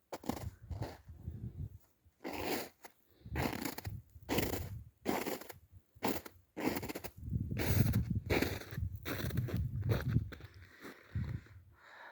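Footsteps crunch through hardened snow in the mountains in a steady walking rhythm, each step a dry, crisp crackle, close and fairly loud.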